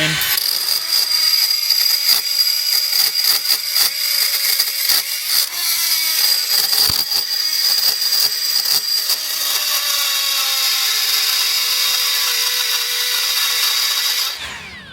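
A Hercules right angle die grinder runs steadily for about fourteen seconds, a loud, close, high whine with rough grinding against metal before it cuts off at the end.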